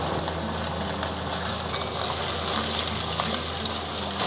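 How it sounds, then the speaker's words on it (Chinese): Cornstarch-coated crispy fish pan-fries in a modest layer of oil over medium-low heat, giving a steady, loud, even sizzle that runs unbroken from start to finish. "先把脆鱼放上去炸，保持中小火炸哦"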